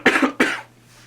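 Two sharp coughs in quick succession, close and loud, followed by a quiet, breathy tail.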